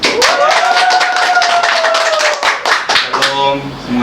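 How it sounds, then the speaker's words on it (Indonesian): Hands clapping in a podcast studio as a guest is welcomed, a short burst of sharp claps mixed with a voice speaking over them. "Tepuk tangan dulu."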